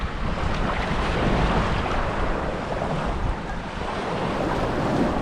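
Sea waves wash onto a Boracay beach in a continuous, broad rush of surf, with wind buffeting the microphone and no voices heard.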